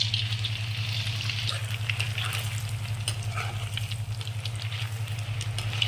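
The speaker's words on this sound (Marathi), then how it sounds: "आता आपण तेलात टाकून घेऊया" Cut pieces of dal bati frying in hot oil over a high gas flame, a steady dense sizzle with crackling pops and a low hum underneath, close and continuous.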